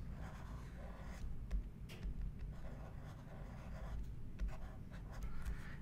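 Marker or pen drawing on a board during a biology lecture on ER to Golgi trafficking, with faint scratchy strokes in short irregular bursts over a steady low background hum.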